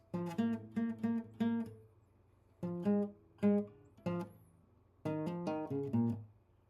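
Reggae bass line played on guitar for a song, with its altered ending: clusters of plucked low notes, a brief run, then a longer closing phrase, close and unaccompanied by talk.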